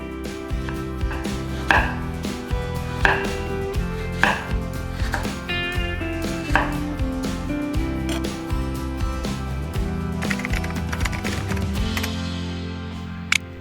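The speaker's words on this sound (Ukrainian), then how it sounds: "Візьміть три яблука, почистите їх та порижте на невеликі шматочки." A knife chops apples into small pieces with a quick run of sharp, regular cuts on a board, close and distinct over a steady musical backdrop.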